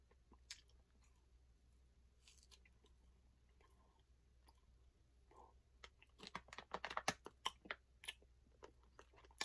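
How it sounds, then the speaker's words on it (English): Someone bites into a big, fairly hard piece of beef jerky and chews it, the close crunches and moist chewing sounds starting faint and growing louder and denser toward the end, with no talking. "now let's take a bite, see how it tastes"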